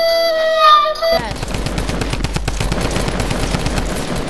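Rapid automatic gunfire in a video game, a tight stream of shots that starts abruptly after a brief tonal sound and keeps rattling steadily and loudly to the end.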